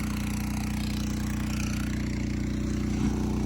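A two-inch water pump's small engine runs steadily at a constant speed, a loud, even mechanical chug that goes on without a break, with no talking.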